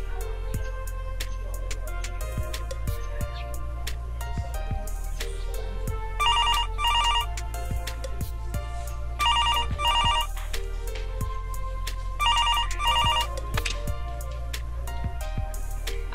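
A telephone bell rings in repeated bursts, three clear double-rings spaced a few seconds apart, heard over a low steady background hum with scattered clicks, no one talking.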